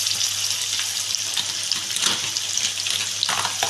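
Onions frying in a pan with garlic and ginger paste, stirred now and then: a steady, close, broadband sizzle with brief scraping accents, no talk.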